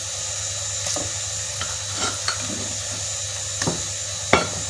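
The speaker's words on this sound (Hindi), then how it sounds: "अब हम इसको भी अच्छी तरह इसके साथ फ्राई कर लेंगे। प्याज हमारा ब्राउन हो गया।" Onions frying with garlic ginger paste in a pan, a close, steady sizzle broken by occasional scraping stirs and light clinks of a spoon against the pan.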